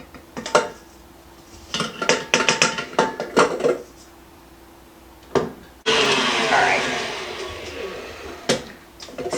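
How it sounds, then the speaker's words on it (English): A spatula scrapes down a mixing bowl of creamed cream cheese, with a series of sharp clinks and scrapes, then a loud whirring mixer run, and more knocks against the bowl. "Just scraping down my bowl."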